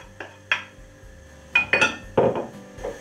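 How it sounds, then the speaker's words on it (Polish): Chopped onion drops into a frying pan of melted butter while making mushroom soup, with a few clinks and scrapes of utensils against the pan, close and loud, with no voices. "Wrzucam cebulkę"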